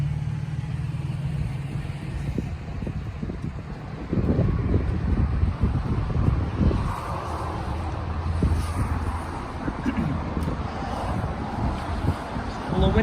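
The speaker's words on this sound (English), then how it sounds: "A little windy out here today." Wind blowing outdoors around a parked Tundra TRD Pro, buffeting the microphone in gusty low rushes that swell and ease, with a brief voice in the background.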